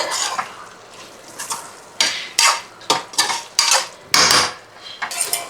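Plain rice tipped into a pressure cooker pot of oily chicken pulao base, a series of sharp scraping, clattering bursts of grains and a metal utensil against the pot, with quieter sizzling stirs between them.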